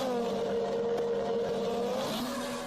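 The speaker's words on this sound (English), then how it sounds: "during the middle of a street race. A number of cars rush past" Several cars rush past in close succession during a street race in Chile, a loud continuous engine roar with a rising and falling pitch as they pass nearby, no voices.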